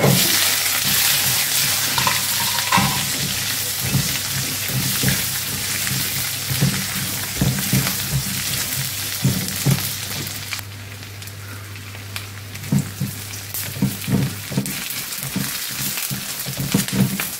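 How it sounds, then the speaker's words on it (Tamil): Garlic and onion fry in sesame oil for tomato and coconut chutney, bubbling and sizzling up close with scraping stirs and intermittent clatter, alongside a low hum that cuts out partway through. "ஓரளவுக்கு செவந்து வந்தோடனே நல்லெண்ணெய் ஊற்றிருக்கிறேன் இல்லையா, அதான் பொங்கி வருது."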